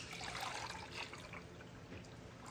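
Ceramic glaze poured into a clean container, a soft, steady trickling and splashing of liquid that stays close and fairly quiet throughout, with no talk over it.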